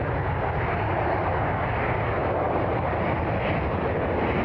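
A Cessna Citation jet flies by near a Cleveland airport, its engines giving a steady, broadband roar that holds at a constant level throughout without any distinct peaks.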